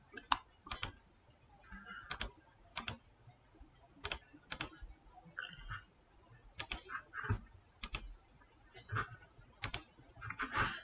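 Keys of a computer keyboard clatter in quick irregular bursts of clicks, close and fairly quiet, with brief pauses between runs of typing.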